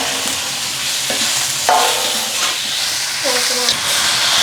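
Tomatoes sizzle and fry in hot oil for rasam, a steady crackling hiss with brief stirring scrapes and clinks from the pan, close and continuous.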